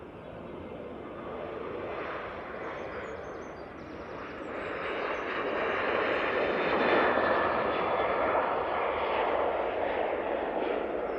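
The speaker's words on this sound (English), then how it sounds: "let's get this KLM now on the roll to Amsterdam" KLM airliner bound for Amsterdam rolling for takeoff at Manchester Airport, a broad engine roar heard from a distance that swells louder and holds steady as it accelerates.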